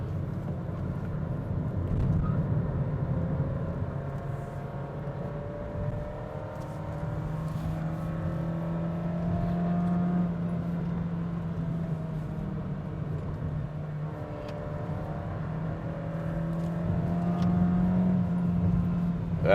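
A Honda City 1.5 engine droning steadily as the car climbs the winding Genting mountain road, the pitch rising and falling with gear changes and throttle, heard from inside the cabin with road noise underneath.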